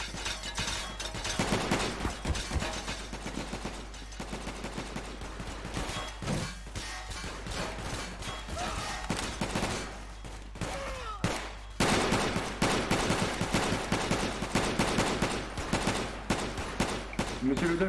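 Dense, continuous video game gunfire with overlapping bursts and automatic fire, loud and sustained throughout, with scattered crashes and players talking faintly underneath.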